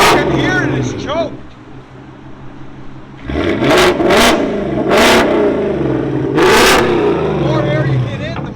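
A 2024 Ford Mustang GT with a 5.0L V8, Corsa Double Helix exhaust and muffler delete idles with a rough burble, then fires off several sharp, loud revs in quick succession, close to the microphone with brief pauses between blips.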